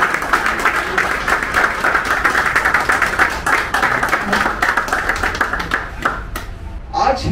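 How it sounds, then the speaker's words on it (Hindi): Audience at a business leaders' meeting clapping loudly and steadily, dense applause from many hands filling the room for several seconds before tapering near the end. "मैं जोरदार तालियों से आप लोगों का रिक्वेस्ट करता हूं कि ताली"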